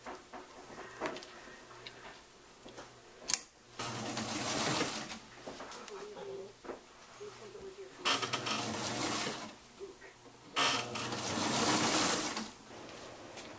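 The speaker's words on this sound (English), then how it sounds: "take this to the sewing machine and just do a straight stitch." A sewing machine runs a straight stitch along a cosplay vest in three quiet, steady whirring runs separated by pauses with faint ticks and handling sounds.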